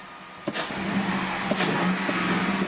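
A car engine idles close by with a steady rumble, giving a couple of short revs with brief clunks along the way.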